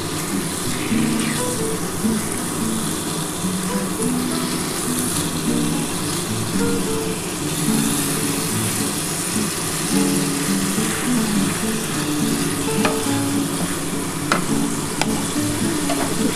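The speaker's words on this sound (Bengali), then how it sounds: "সামান্য জল দিয়ে দিচ্ছি" Rohu fish masala bubbles in a pan as a little water is added. A dense, continuous sizzle and hiss runs throughout with a few faint clinks near the end, close and fairly loud, with no one speaking.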